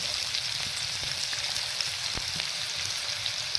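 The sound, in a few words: chopped onion and coriander frying in a cumin tempering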